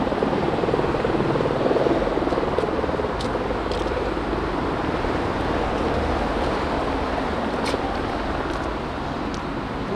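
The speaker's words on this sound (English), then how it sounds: "there's a helicopter keeping it nice and peaceful for us." A helicopter passes over Victoria Embankment in London, a steady broadband rotor drone holding at constant loudness through the whole stretch, mixed with a low city and traffic hum and no talking.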